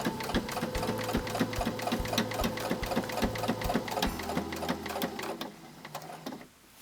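Sewing machine stitches a wallet in a fast, steady run of mechanical clicks and hum, close and moderately loud, slowing and stopping near the end.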